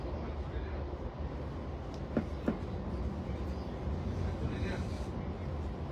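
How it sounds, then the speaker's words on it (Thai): Constant low rumble and rattling of a train running on rails in the Netherlands near Amsterdam, heard from inside a carriage, with a couple of faint clanks. "ตอนนี้เรานั่งอยู่บนรถไฟนะครับ"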